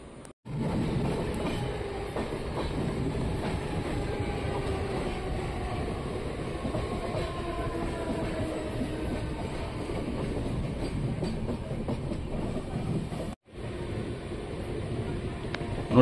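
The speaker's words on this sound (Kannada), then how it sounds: "ನೋಡಿ, ಯಾವುದೋ ಲೋಕಲ್ ಟ್ರೈನು ಯಾವುದೋ ರೈಲ್ವೆ ಸ್ಟೇಷನ್ ಒಳಗೆ ಎಂಟ್ರಿ ಆಗ್ತಿದೆ" A local train rumbles past steadily and pulls into a railway station on a Gulbarga–Mumbai line, with continuous wheel clatter and rail rumble at close range and a brief dropout near the end.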